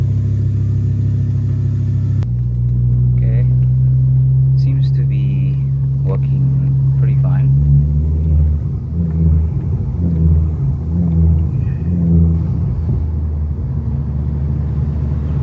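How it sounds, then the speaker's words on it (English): A 2008 Ford Focus ST with its 2.5-litre, 225-horsepower engine rumbles steadily while driving, a loud, low, continuous engine drone with gentle changes in revs, and a person talks over it. "Let's take you for a little drive."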